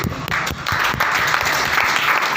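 An audience standing up and clapping loudly at a live demonstration, with dense applause that stays steady and strong throughout and only a faint voice underneath.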